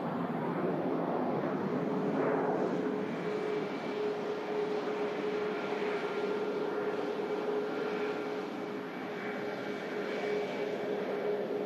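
Broad steady jet roar from an airplane departing Manchester Airport, a sustained loud rumble with a whining tone across the whole stretch, with voices faintly in the background.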